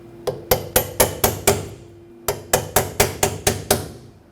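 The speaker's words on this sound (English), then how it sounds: "I'm going to take a chisel and a hammer and punch that lip" Two quick runs of sharp metallic hammer taps on a chisel staking an inner tie rod on a 2006-2010 Hyundai Sonata, about six and eight strikes each, evenly spaced, close and ringing briefly.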